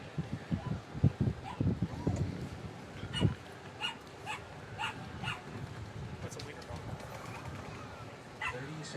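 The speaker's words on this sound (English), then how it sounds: "if you can hear this dog barking in the background" Small white miniature dachshund barking in short yips in the background at an outdoor paintball tournament, fairly faint beneath ongoing commentary and crowd noise.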